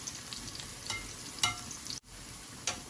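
Garlic frying in a pan for a Bengali lamb curry, a steady close sizzle with a few sharper crackling bursts and a brief dip near the end, no voices.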